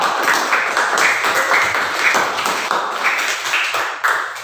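A group of people claps steadily and continuously in a room, a dense and fairly loud round of applause.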